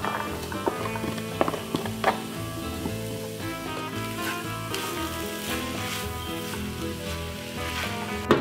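Black beans sizzle in a pan as vegan crunch wrap filling, a soft crackling fry under steady background music.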